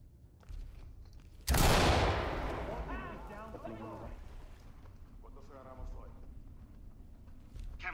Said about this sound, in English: Move in. Toss a bang and clear.